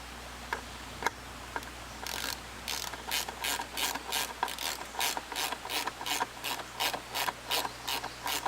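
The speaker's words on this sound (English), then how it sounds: "I get my lag bolt started. This will help hold it while I secure it" Ratchet wrench driving a lag bolt into a 4x4 wooden post, a rapid, steady run of close, crisp clicks after a few isolated ticks, heard alone without talk.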